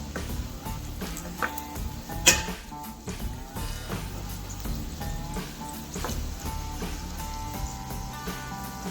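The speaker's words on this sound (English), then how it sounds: "We're just looking to melt the butter" Butter melts in a pan with a soft, continuous sizzle and occasional crackles and light clinks nearby, as a pot pie filling is started in the kitchen.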